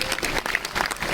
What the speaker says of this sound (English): let us all give Sophia a warm welcome to the city of Kolkata with a big clap